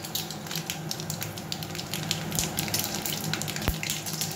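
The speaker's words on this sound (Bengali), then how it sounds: "তেলটা গরম হয়ে গেছে, এবার এটা আমি ফোড়ন দিয়ে দিলাম" Mustard seeds and dried chillies sizzle in hot mustard oil, with a fairly quiet, continuous crackling hiss scattered with tiny pops and one sharper snap near the end.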